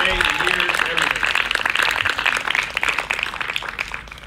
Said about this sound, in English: give a great round of applause to Jenna Temple for all she's done